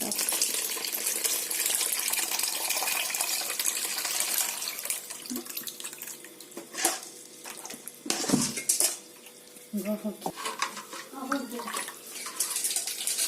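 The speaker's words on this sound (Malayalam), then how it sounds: "ഈ പുളിവെള്ളം നമുക്ക് ചേർത്ത് കൊടുക്കാം" Tamarind water splashes and pours into a pot of home-style fish curry, a faint running trickle with clinks of vessels and utensils and a voice speaking softly over it.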